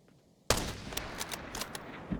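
Sharp sniper rifle shots from an SJ16 in Arena Breakout Infinite, a sudden loud blast followed by several more cracks spaced irregularly over a continuous noisy background.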